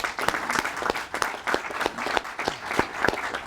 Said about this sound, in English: let's give the congressman a round of applause